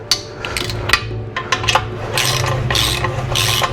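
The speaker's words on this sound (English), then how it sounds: "I could go ahead and start tightening these" Bolts on a winch fairlead mount on a Jeep Wrangler 4xe front bumper being tightened with a ratchet: several quick, close clicking bursts with brief pauses, then a steady grinding rasp near the end.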